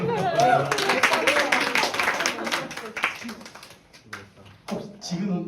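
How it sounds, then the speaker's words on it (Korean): Audience applause at a church teachers' training session: dense, fairly close clapping fills the first three seconds, then thins to scattered claps, with voices murmuring through it. "네, 박수."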